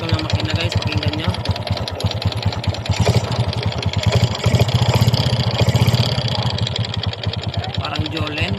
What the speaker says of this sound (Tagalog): Ayan po tunog ng kanyang makina guys, pakinggan nyo.